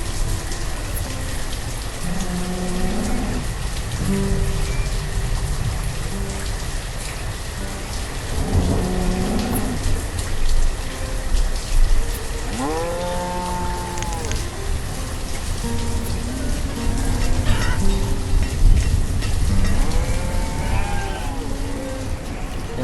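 Steady rain pours throughout with rumbles of thunder, while cattle moo occasionally in the background, in the video game Banished.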